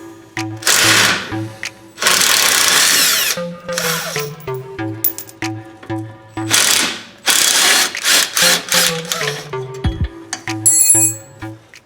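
A ratchet wrench works the lower shock bolt on a Jeep Cherokee XJ, bursts of rapid clicking pawl alternating with brief pauses and metallic ticks, close and loud over about twelve seconds.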